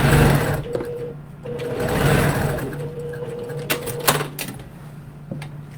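A sewing machine stitching along a folded edge of fabric, its fast mechanical whirring running up close and stopping and starting with a few clicks in between.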